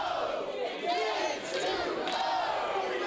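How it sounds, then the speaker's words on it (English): A pro wrestling crowd in Brockton chants for H2O Ryan Waters at a New Year's show, a loud rhythmic mass of voices repeating the chant with some crowd noise behind it. "Those are some firmly chanted H2O, not H2no chants that you can hear from the Brockton crowd."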